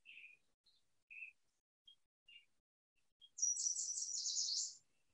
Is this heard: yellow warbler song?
yes